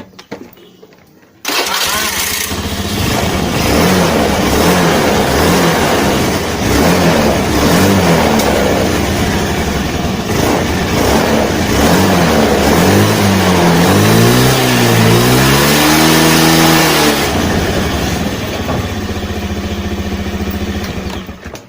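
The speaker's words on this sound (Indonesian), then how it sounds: "sembari kita hidupin ya motornya ya" A carbureted Honda Beat scooter engine starts up and idles steadily close by, with loud continuous running and a rising rev around the middle before settling back to idle.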